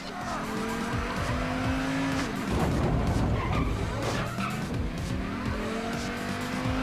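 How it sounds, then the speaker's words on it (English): A red car in a PAYDAY stealth heist video game peels out with loud, sustained tire squeal and skidding over a revving engine, continuous and close throughout with no talk. "take the sick nasty red car and peel out"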